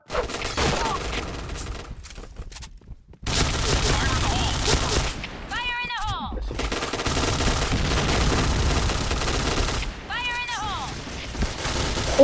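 A Kriss S.V. submachine gun fires in the online shooter Point Blank: rapid bursts of loud, continuous gunfire that stop briefly, with short exclamations from a player's voice in between.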